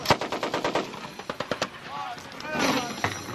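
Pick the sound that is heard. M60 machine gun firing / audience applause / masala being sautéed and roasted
M60 machine gun firing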